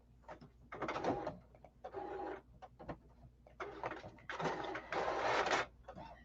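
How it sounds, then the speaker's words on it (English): A home printer runs through a print job in alternating bursts of whirring feed and mechanical movement, with short pauses and clicks between, close and moderately loud. "I'm going to have my printer going."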